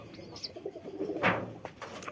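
Pigeons at a home loft with young chicks coo softly in a steady, nearby murmur, with a few brighter chirps and a brief rustle of movement partway through.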